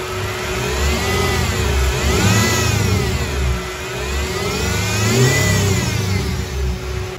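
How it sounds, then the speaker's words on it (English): A Mercedes CLK55 engine is revved repeatedly, rising and falling in several smooth swells over a constant loud, close idle drone. "rev it up a little bit"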